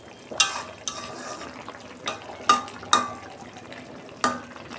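Soybean chunks, fried until browned like meat, are tipped out of a pan into a dish with several sharp clinks and scrapes of metal against crockery over a faint residual sizzle, close by and moderately loud.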